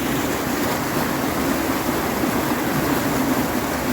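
Rushing water pours over bedrock in a Washington stream, a loud, steady, broadband roar that stays constant and close throughout with no voices.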